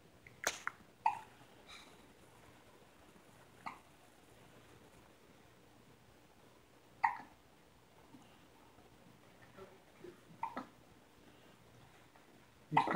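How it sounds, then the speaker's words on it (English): A baby hiccups in a quiet room: a handful of short, sharp hiccups spaced irregularly over several seconds, soft and close, with near silence between them. "Gonna hiccup himself to sleep."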